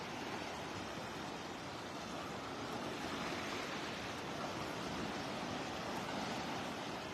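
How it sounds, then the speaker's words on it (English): Waves wash onto the Gulf shore at Delnor-Wiggins Pass State Park in Naples at daybreak, a constant broad roar of surf with no distinct breaks, steady and fairly close. "You can hear the waves out here on the Gulf side."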